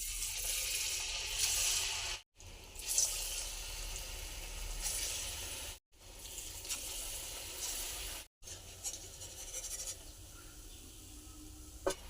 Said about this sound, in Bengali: রুলিগুলোকে এক এক করে ভেজে নেব।